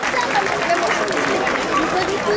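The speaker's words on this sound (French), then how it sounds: "On peut applaudir s'il vous plaît cette série." An audience at a bull bodega in Pérols breaks into sustained, dense applause and crowd noise, steady and close throughout the short burst.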